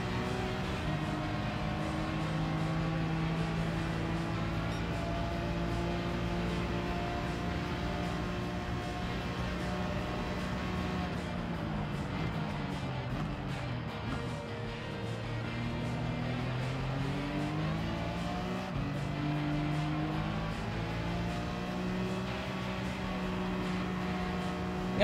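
Race car engines in Gran Turismo 7 on the Sardegna asphalt circuit, a BMW M3 and an AMG among them, droning steadily throughout with rising and falling pitch as the throttle eases off mid-run.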